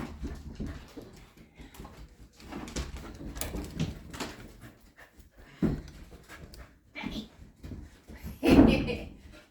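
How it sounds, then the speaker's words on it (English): Dogs coming indoors from outside to play, with panting, whimpering and shuffling through a busy stretch and a louder burst near the end, alongside someone talking to them. "The dogs get to come in and play."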